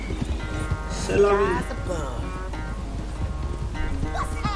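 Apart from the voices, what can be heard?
horse galloping in video game Red Dead Redemption 2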